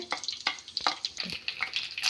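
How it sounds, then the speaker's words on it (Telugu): Cumin seeds and green chillies sizzling in a little hot oil for a pomegranate chutney tempering, with a soft crackle and intermittent spatter and stirring scrapes close by. "జీలకర్ర మిరపకాయలు వేగాలి"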